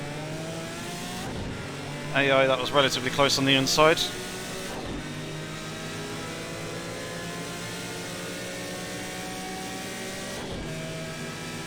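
A Group C prototype race car in Project CARS 2 at Le Mans slows under engine braking, its engine note dropping through steady harmonic whine beneath a voice talking throughout, with a brief burst of shifting tones early on.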